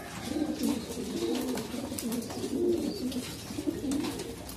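Racing pigeons coo in a steady series of soft, throaty low calls that overlap and repeat throughout, close by with a faint rustling loft background.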